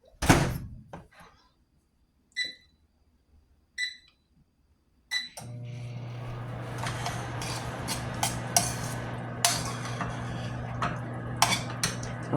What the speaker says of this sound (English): Zap it in the microwave for a few seconds.